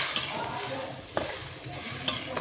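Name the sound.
water added to frying bhola fish curry in a pan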